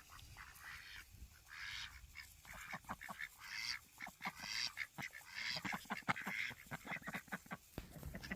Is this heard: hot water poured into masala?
no